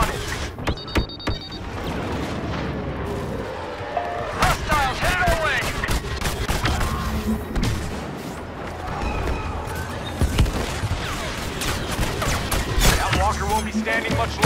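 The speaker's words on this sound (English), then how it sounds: "Focus all blasters on it." Blaster fire aimed at an exposed Imperial walker in a Star Wars Walker Assault battle, including a BO rifle, crackles in dense, continuous volleys with sharp bursts and booms, and voices sound over the steady battle noise.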